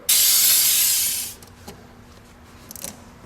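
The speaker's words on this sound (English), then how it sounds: "This is brake cleaner, by the way." Brake cleaner sprayed from an aerosol can onto a brake fluid reservoir: one loud, steady hiss lasting about a second, fading off, followed by a few faint clicks and handling noises.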